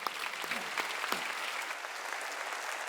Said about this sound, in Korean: 새 성전을 준 걸 감사해서 박수 보냅시다